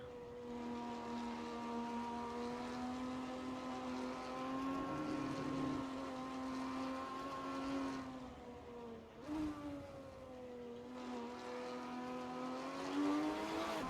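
Race cars roar steadily through a sim racing game at the Assen circuit, a continuous loud engine drone with shifting pitch and brief dips as the cars brake and accelerate, with no talking.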